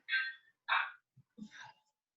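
A pet dog gives two short, close yips or whines, followed by a soft snuffling breath and a quieter whimpering call, in a quiet indoor room.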